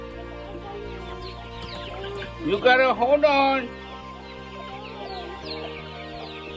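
Farm chickens clucking in a short burst of calls near the middle, under a person talking and urging the birds along amid farmyard activity.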